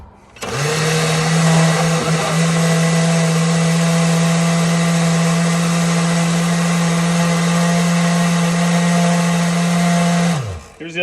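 A kitchen blender whirring steadily while blending a smoothie of vegetables, fruit and peanut butter, a loud continuous motor drone with a high whine that holds for about ten seconds and then winds down.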